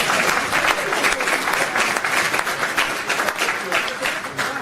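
An audience at a public meeting on free public transport applauds a speaker, dense sustained clapping filling the room at close range with no pause.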